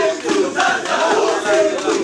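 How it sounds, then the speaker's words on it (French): A joyful crowd in Buta, Democratic Republic of the Congo, sings and shouts to welcome a returning governor, a dense mass of voices rising and falling in loud, continuous cheering. "la foule qui l'attendait avec des chants et autres cris de joie"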